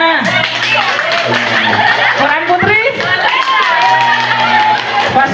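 Classroom audience clapping hands in a school session, rhythmic claps mixed with chatter, snickers and light laughter, while a voice speaks over the crowd near the mic.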